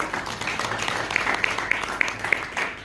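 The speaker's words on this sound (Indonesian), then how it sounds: "Yang mengerti sekali beri tepuk tangan." Congregation applause during an Indonesian-language Christian sermon in a church setting: a steady wash of moderately loud clapping with a few sharper individual claps, heard alone throughout.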